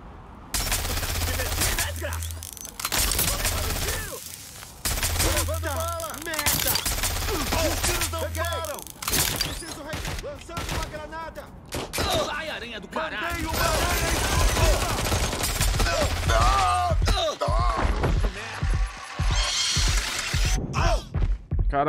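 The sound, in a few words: gunfire from a weapon in video game Watch Dogs Legion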